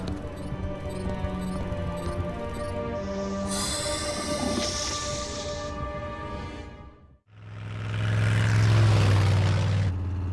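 Cartoon train rushing past: a loud, steady rumble with wheel and engine drone and high squealing tones, dipping briefly before a second heavy, humming roar swells back up.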